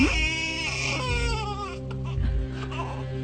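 An infant cries steadily up close, a strained, rising and falling wail with choppy sobbing toward the end, over soft background music.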